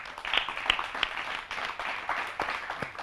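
Audience applause for the coordinator at a French-language ceremony, a steady wash of many hands clapping with sharper individual claps standing out, moderately loud throughout.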